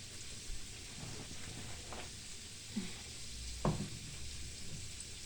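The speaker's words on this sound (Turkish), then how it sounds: "Bu arada da burada şöyle soğan kavuruyorum." Onions sautéing in a pan during kelle paça soup preparation, a faint, steady sizzle with a few soft utensil taps and clinks and no voices.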